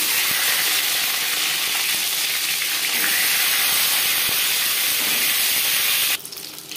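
An egg fries in three spoons of hot refined oil, giving a steady loud sizzle and crackle that runs throughout, with a brief change in texture near the end.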